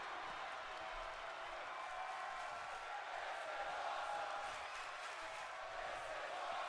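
A wrestling crowd at an RCW Breakout pay-per-view cheers and applauds in a steady, distant roar that holds at an even level throughout.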